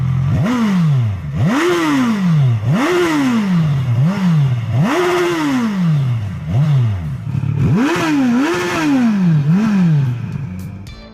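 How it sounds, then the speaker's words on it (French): A 2014 Kawasaki Z1000SX with a 1043 cc four-cylinder engine revs repeatedly, its exhaust rising and falling in about nine loud, close sweeps, with no talk. "La sonorité de l'échappement est enchanteresse, on vous laisse écouter."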